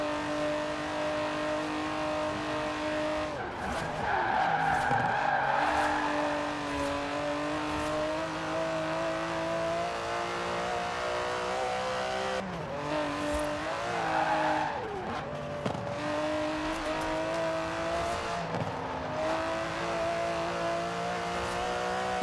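Aston Martin DB11 driven in the racing video game Forza Horizon 4, its engine revving up and down through gear changes with rising and falling tones and occasional tire squeal, loud and continuous with no voices.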